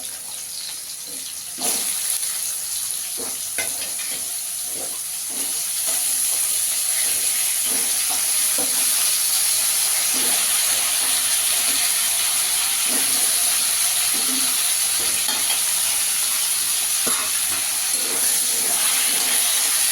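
Potatoes frying in a pan with whole cumin, a steady loud sizzle and hiss that carries on without a break, with scattered light clinks of a utensil against the pan.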